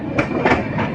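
The 12822 Dhauli Express on the Puri–Howrah line pulls out of Jajpur road station about 30 minutes late, with steady, loud rolling rumble and rhythmic clacks of wheels over rail joints close by.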